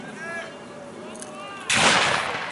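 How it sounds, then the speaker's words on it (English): A reenactment artillery cannon fires during a 1775 Battle of Great Bridge reenactment, one sudden loud outdoor boom that follows a stretch of crowd murmur and background voices. "The artillery is firing,"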